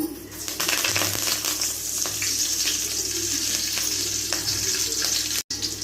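Curry leaves sizzle and crackle loudly in hot oil for a spicy egg stir-fry, a steady dense hiss with scattered pops, close and continuous with no talking.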